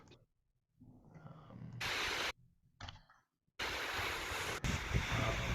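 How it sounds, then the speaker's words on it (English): A tall two-tier waterfall in New York gives a broad roaring wash of falling water, heard in loud bursts broken by near-silent gaps, with no voices. "it's the tallest two-tier waterfall I know in New York"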